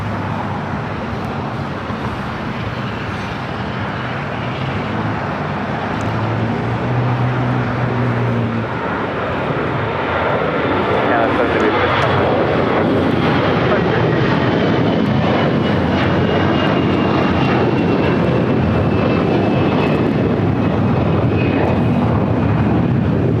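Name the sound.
jet airliner at LAX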